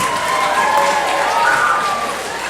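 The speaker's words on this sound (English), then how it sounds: "let's have a round of applause for those and Ms. Anderson." Audience applause at a Great Neck North High School young people's concert, a continuous roar of clapping with some voices and cheering mixed in.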